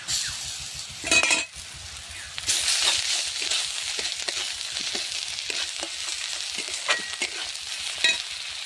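Fried onions sizzle loudly in a pan as spices, salt and turmeric are added, with a constant hiss, a few sharp utensil clinks and scrapes, and no voices.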